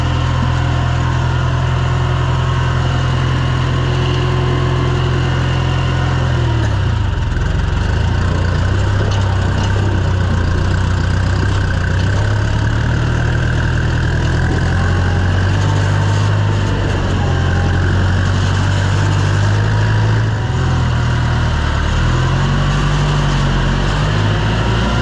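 A heavy John Deere 2020 tractor engine runs steadily and loudly throughout, a low rumbling drone with slight shifts in pitch as it works, no voices over it.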